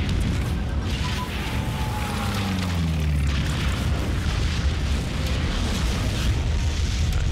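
Bombing explosions from the strategy game Hearts of Iron 3: deep rumbling booms roll continuously, loud and dense, with a low droning tone sliding downward partway through.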